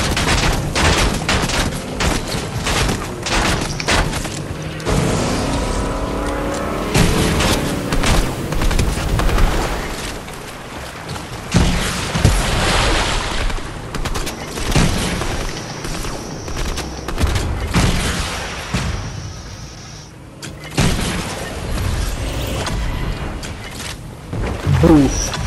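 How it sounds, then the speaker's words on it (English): Gunfire from another player in a video game: dense bursts of rapid shots and booms, loud and near, continuing throughout with brief pauses and occasional voices. "there's someone else shooting at me"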